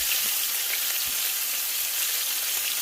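Groundhog meat fries in a pan with a steady, dense, close sizzle that holds evenly throughout, with a few faint pops and no voices.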